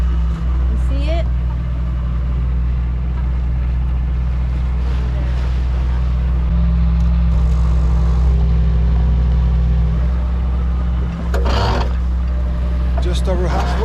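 Boat engine droning steadily while crossing the North Sea offshore, a loud low constant hum with wind buffeting the microphone and water wash, persisting throughout with brief speech over it.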